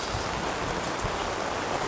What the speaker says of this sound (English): we were not prepared for that rain